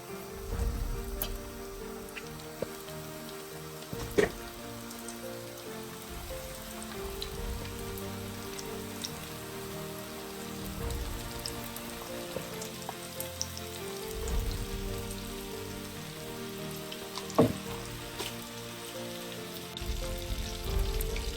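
Chicken breast nuggets frying in hot oil in a pan, a steady soft sizzle and crackle with scattered pops, heard close and alone with no talking.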